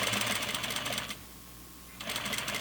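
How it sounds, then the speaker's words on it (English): A sewing machine back stitches flannel pajama pants, its fast steady whir running close, stopping for about a second, then starting again. "Turn my machine on. Go ahead and back stitch."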